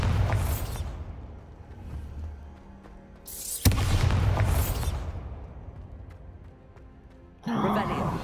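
Bombarda spell explosions in Hogwarts Legacy, two sharp blasts with long rumbling decays about three seconds apart and a third burst starting at the end, alongside a voice.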